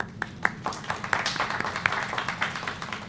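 Audience at an annual community organization meeting clapping briefly, a scattered set of distinct hand claps with a low room murmur underneath, moderate and close.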